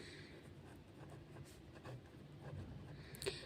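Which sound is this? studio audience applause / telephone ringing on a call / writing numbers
writing numbers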